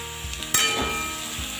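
Pumpkin and chickpeas hiss and sizzle in hot oil over a high gas flame, with a sharp scrape and clatter of stirring partway through; no voices.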